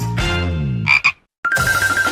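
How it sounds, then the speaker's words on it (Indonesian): A frog croaks loudly and close by: a sustained rough call, two short sharp bursts, a brief silence, then another long steady croak. "Oh tidak, ini katak."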